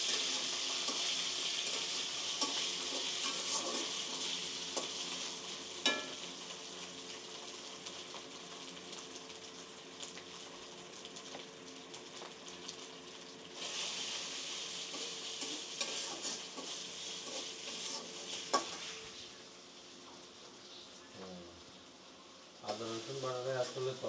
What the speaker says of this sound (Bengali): পেঁয়াজ তো ছিল বেরেস্তার মতো হয়ে যাচ্ছে।